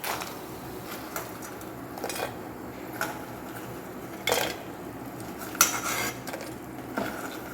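Scooping fried kondattam chilies out of hot oil for a thodu curry, with a few sharp metal clinks of a slotted spoon against the pan over a soft sizzle, no voices.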